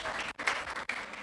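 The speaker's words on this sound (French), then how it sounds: "on applaudit le monsieur." Audience applause at a public-speaking workshop in a youth centre, a short burst of dense clapping that dips briefly twice before carrying on steadily.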